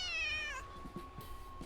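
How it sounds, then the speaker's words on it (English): A video game cat gives one clear, drawn-out meow that bends downward, followed by a steady tone and a few soft thuds in an otherwise quiet scene. "I love the cat."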